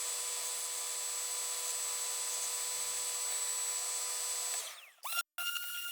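Bench sander running steadily at close range, a continuous whine with a faint touch as a pom-pom's edges are shaped and bevelled, then the motor spins down and cuts out near the end.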